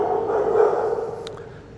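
A dog at a ferry terminal in Calais gives a short bark or yelp, brief and moderately near, against a low ambient background.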